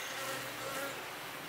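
Honey bees buzz steadily in an opened hive during a frame inspection, a dense, continuous insect drone held at an even level with no talk.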